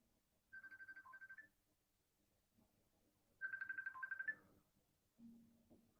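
A mobile phone sounds two separate bursts of rapid, pulsing electronic notification tones in a quiet room, each lasting about a second. A softer, lower tone follows near the end.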